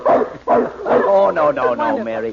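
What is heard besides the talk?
large dog named Happy barking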